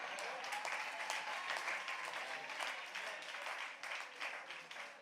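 A rally crowd applauds, with steady, sustained clapping heard from a distance and no break.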